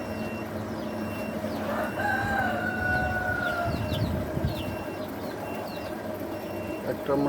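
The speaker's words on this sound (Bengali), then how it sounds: "দেশি মুরগি।" A native rooster crows once in a long rising-then-held call, mid-distance, amid a busy farmyard of clucking native chickens and general background noise, with people talking nearby.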